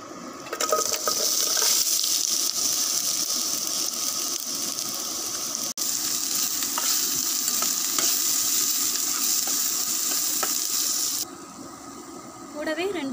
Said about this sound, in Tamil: சேர்த்துட்டு நல்லா பொன்னிறம் ஆகிற வரைக்கும் நல்லா வதக்கி விட்டுடுறோம்